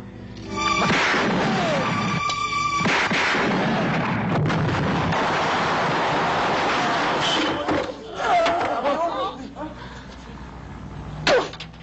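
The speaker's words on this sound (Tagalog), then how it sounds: "Huwag mong papuputok yan, baka tamaan ako!" Gunfire rings out in a Filipino action film, a chaotic stretch of loud sharp shots and bursts mixed with shouting voices, ending with one abrupt crack.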